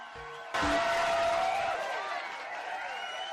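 A crowd erupts into a wild, loud cheering roar that bursts in abruptly after a brief quiet moment and holds at a dense, steady level, easing slightly toward the end.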